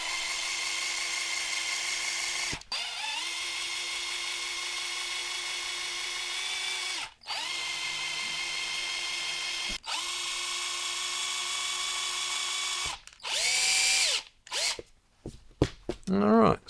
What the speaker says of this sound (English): I'm going to let you do some pilot holes, Matty.